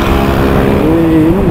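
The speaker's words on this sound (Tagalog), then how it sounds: "Eh, ano motor yan?" Motorcycle engine rising in pitch as it speeds up from behind and passes, a loud close revving whine over road and engine rumble.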